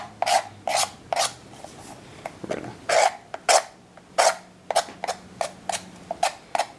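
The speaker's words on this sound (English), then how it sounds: "This is just a Leatherman Skeletool that I'm using for this process here. You can see it takes off those plastic boogers pretty good." A Leatherman Skeletool blade scrapes plastic slag off a Kydex mag carrier in short, sharp rasping strokes, close and loud, about a dozen passes at an uneven rhythm with brief pauses between them.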